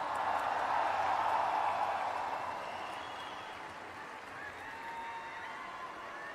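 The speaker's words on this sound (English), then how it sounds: "Big round of applause for Sadhguru once again." A large crowd applauds Sadhguru at a live Save Soil event in Delhi, welcoming him after a long solo motorcycle ride; dense, steady clapping starts loud, then eases to a lower, sustained wash.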